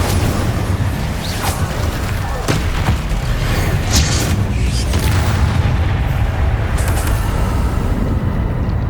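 The Incendio fire spell in Hogwarts Legacy, played on PlayStation 5, bursts out repeatedly in loud booming blasts amid constant combat rumble, with several sharp impacts spread across the stretch.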